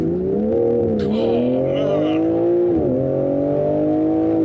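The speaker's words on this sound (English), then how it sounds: "doing a proper launch control, even though it's in manual, when it gets to the top of first gear, it does actually change that through the gears" A BMW M3 G80 launching hard under launch control in manual mode, its engine roaring loud and close as it climbs through a rising rev sweep, dips at an upshift near three seconds and pulls on again.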